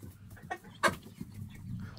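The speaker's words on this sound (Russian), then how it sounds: "смотрите, какие хорошие петушки." Roosters in a poultry yard give short, close clucks and one louder squawking call among low barnyard murmur.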